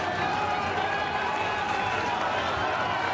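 Spectators roar and cheer steadily along the bank at the 2023 Henley Royal Regatta during a close Wyfold race between K.A.R.Z.V. De Hoop and London Rowing Club, a dense continuous wash of crowd noise.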